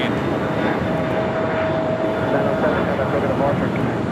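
Near and loud, the jet engines of a Boeing 747 roar steadily at LAX, a continuous rushing drone with a faint high whine, and talk running over it.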